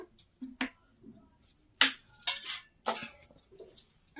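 Dishes and cutlery clink and clatter in a home kitchen as rice is served onto a plate, with several sharp knocks and scrapes coming close by in short irregular bursts.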